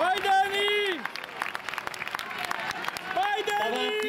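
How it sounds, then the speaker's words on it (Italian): Clapping and crowd noise at a women's 800 m race at a Nembro athletics meeting, heard as runners reach the finish, with loud, excited shouting and talk over the applause. "accompagniamole col nostro applauso sino all'arrivo"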